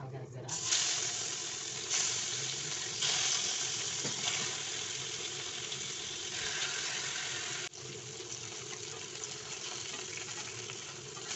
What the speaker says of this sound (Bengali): এখন মাছটা আমি ভালো করে একটু হলুদ লবণ মেখে দিয়ে এখন কিন্তু মাছটা আমি ভেজে নেব